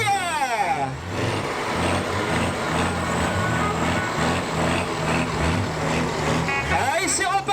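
A heavy stunt truck engine revs and drones loudly and continuously at a stunt show, pitch rising and falling with throttle changes, close by, with a voice talking over it.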